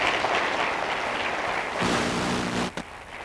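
An audience applauds steadily after Walter Cronkite is introduced as a speaker at ASU, a dense wash of clapping that holds at full level, then cuts off abruptly near the end.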